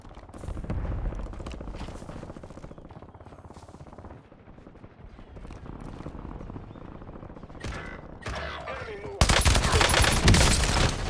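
Video game gunfire: a sustained, dense clatter of rapid shots that runs throughout, ending in a louder, harsher burst of fire, with no clear talk.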